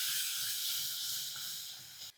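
A steady, bright sizzling hiss of spices frying in hot oil with a little water added, close and continuous, cutting off abruptly at the end.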